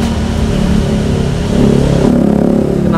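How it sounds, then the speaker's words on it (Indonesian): Motorcycle with a racing exhaust passing close by, a loud rough engine roar that swells and then fades, with no talking. "Knalpot racing."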